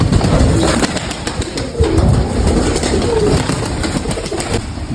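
A red-breasted pigeon coos low and soft among a flock of pigeons, the coos half buried in loud, steady, dense background noise.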